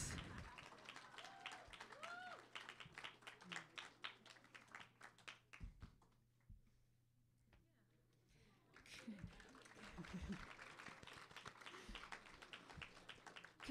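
A graduate competition audience applauds its winners with a steady crowd clatter of claps, which fades into a quiet gap before the clapping swells again. Faint talking mixes in underneath.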